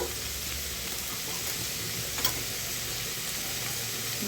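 Bean leaf paturi frying in a pan, seasoned with green chilli, turmeric and cumin powder, gives off a steady, even sizzle with a faint low hum underneath and one brief crackle partway through.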